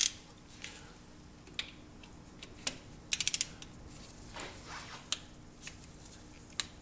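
Faint clicking and ratcheting of a torque wrench set low, about 18, tightening a fitting during a transmission oil change on a 2018-era MINI Cooper Roadster R59, with scattered light clicks and one quick burst of sharp clicks in a quiet garage.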